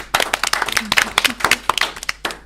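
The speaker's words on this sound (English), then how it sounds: "Do give them a round of applause for me." Audience applause for D&D players after a live game session: a short burst of scattered clapping from a small crowd, with a voice speaking over it.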